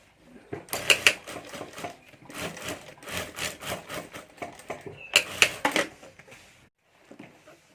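A sewing machine stitches pieces of a handmade bag in short runs of quick rattling clatter, with a few sharp clicks and brief pauses, and fades to near silence at the end.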